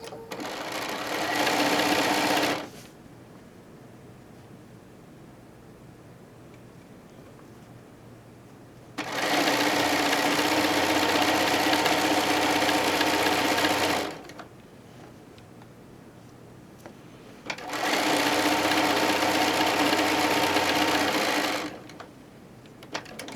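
A sewing machine stitching a quilt seam runs in three long steady bursts of rapid mechanical whirring, close and loud, with quiet pauses in between.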